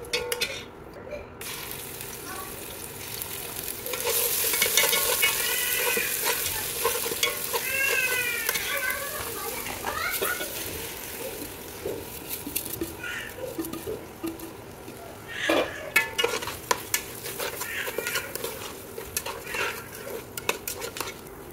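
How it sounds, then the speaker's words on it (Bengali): Pulao rice fries and is stirred in a pan, giving a continuous sizzle with a spoon repeatedly scraping and clinking against the metal, close by and moderately loud. "পোলাওটাকে কিছুক্ষণ ভেজে নিব।"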